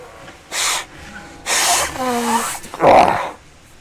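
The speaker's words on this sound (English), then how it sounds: "I gotta blow my nose again." A person blows their nose in three forceful, breathy bursts, the last the loudest, close to the microphone, with a brief voiced sound between them.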